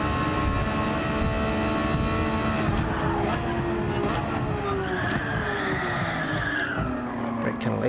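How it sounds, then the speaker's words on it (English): A race car roars past with squealing, skidding tires, its engine pitch sweeping as it goes by, loud and close over continuous track noise. "I hear another car."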